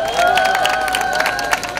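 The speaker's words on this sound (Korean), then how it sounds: "뜨거운 박수를 보내드리도록 하겠습니다." Crowd applause and cheering at an outdoor Wednesday street prayer rally in Korea, continuous clapping mixed with voices and a sustained tonal hum, fairly loud throughout.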